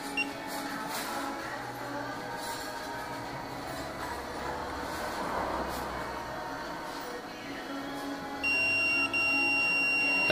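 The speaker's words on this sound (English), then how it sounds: "That beep is normal." A low mechanical hum from a machine being programmed runs for several seconds, then a steady electronic beep starts and holds, loud and close.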